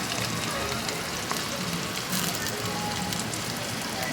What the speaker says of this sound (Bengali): পেঁয়াজটা একটু ভাজা ভাজা হয়ে গেলে এর মধ্যে দেব চেরা কাঁচা লঙ্কা